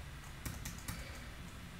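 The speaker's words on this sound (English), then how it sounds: "She's typing." Quiet typing on a computer keyboard during an online meeting, a few brief clusters of key clicks over faint background noise.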